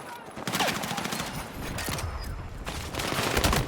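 Battlefield 6 heavy weapon fire, dense bursts of gunfire and booming shots layered over battlefield noise, loud and sustained, with faint voices mixed in.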